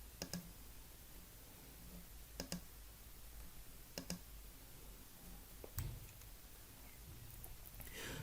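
Mouse clicks on a computer while navigating an operations dashboard console: sharp isolated clicks, mostly in quick pairs, spaced a second or more apart over a steady quiet room hiss, close and fairly faint.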